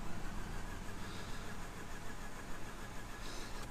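A Mazda RX-8 rotary engine with its fuel gauge on empty cranks and churns steadily, a dense, continuous mechanical drone heard close up without any talking.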